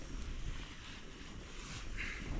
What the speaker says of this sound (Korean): 지금 여기는 거세게 바람이 불고 있습니다.